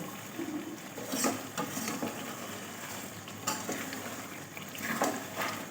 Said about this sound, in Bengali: চিকেনটা আমি খুব সুন্দর করে কষিয়ে নিচ্ছি যতক্ষণ না তেল ছাড়বে ততক্ষণ পর্যন্ত আমি কষাতে থাকবো